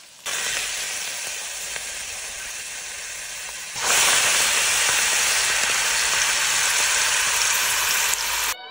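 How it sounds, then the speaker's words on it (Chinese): Acacia and elderflower clusters coated in flour, egg and milk batter fry in hot oil in Alsace, giving a loud, continuous sizzling hiss that surges even stronger partway through. "然后放进滚烫的油锅里炸。"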